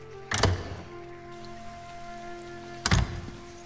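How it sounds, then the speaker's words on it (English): Two brief bursts of pattering rain in The Elder Scrolls Online, separated by a couple of seconds, over a steady low ambient hum with tonal layers. "It sounds like it's raining in here"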